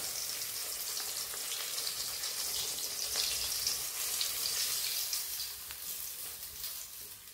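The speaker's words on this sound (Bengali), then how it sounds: "এবার বাকি 2টো মাছও ভেজে নেব।" Fish frying in hot oil gives a steady bright sizzle with crackling pops throughout. It is heard close up on its own, with no talking.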